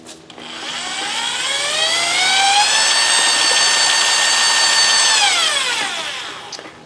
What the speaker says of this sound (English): Once I shoved the mixer down in there, it started squishing up